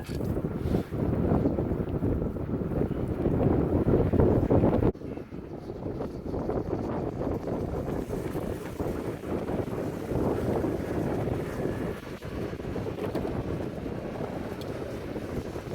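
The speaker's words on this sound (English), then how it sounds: "So there's how windy it is." Strong wind roars and buffets the microphone continuously outdoors in a paddock, a loud low rumble with gusty swells and no voices.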